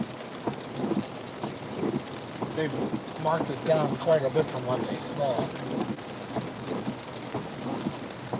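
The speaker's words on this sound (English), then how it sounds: "Oh, it's a pretty good storm trending through" A thunderstorm's steady rain keeps up a constant hiss while someone talks over it at close range, with faint low rumbling in the background.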